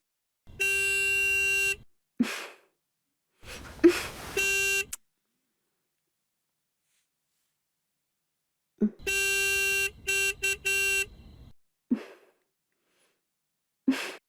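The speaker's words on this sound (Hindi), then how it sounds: "देखो कोई बाहर हॉर्न बजा रहा है" A car horn blares in long and short honks, a couple of sustained blasts then a rapid cluster of toots, with brief quiet gaps and faint breaths between.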